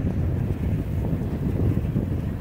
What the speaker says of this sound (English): Oh, wind.